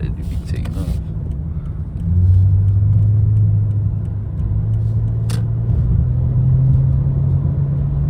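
Lexus car cruising at night, a steady low engine and road rumble with a rising hum as it picks up speed, heard from inside the cabin with some talking.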